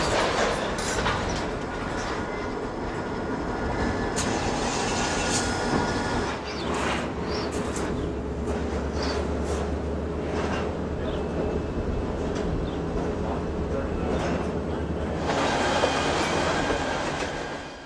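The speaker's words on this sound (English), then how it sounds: "The whine of diesel locomotive turbochargers literally drowns out all other sounds." Diesel locomotive turbochargers whine steadily at Radnor Yard as several locomotives switch, a dense continuous mechanical roar with a low engine drone and scattered metallic clanks, close and loud throughout.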